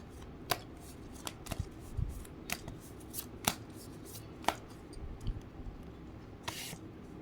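Tarot cards being drawn and shuffled, quiet close riffles and soft snaps of card stock repeating at irregular intervals, with no talking.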